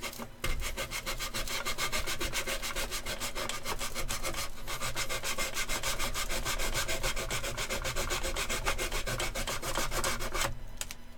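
Dry, rapid back-and-forth rasping of worn sandpaper on wood, steady and close for the whole stretch with an even rhythm of strokes, no voices.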